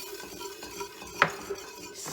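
Flour being stirred into a roux in a pot for crawfish étouffée, with quiet, close scraping of a utensil against the pot and one sharper clink, no talking.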